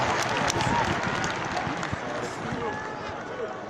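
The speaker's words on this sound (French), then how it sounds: "Est-ce qu'on peut applaudir pour le Père de l'Église catholique de Bobo?" A crowd claps for a Catholic priest from Bobo at a live public gathering in Burkina Faso, the applause dense, loud and sustained throughout with no break.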